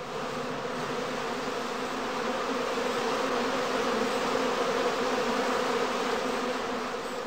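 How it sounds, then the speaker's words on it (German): Honeybees buzzing at the entrance of a straw skep hive in a heathland apiary, a steady, dense, close-up drone of many insects without pause. "Kehren die Bienen damit heim, so verständigen sie sich mit anderen Trachtbienen über gute Nahrungsquellen bereits am Flugloch"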